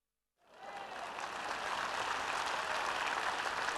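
A small crowd of ten to fifteen people breaks into applause after a moment of silence. The clapping swells quickly and then holds as a steady, dense patter.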